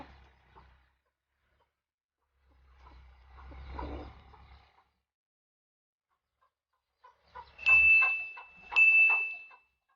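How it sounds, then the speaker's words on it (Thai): A hen among many chicks on a Thai village farm clucks in short soft bursts with quiet gaps between them, and a brief ringing tone comes near the end. "นี่แม่ไก่สวย"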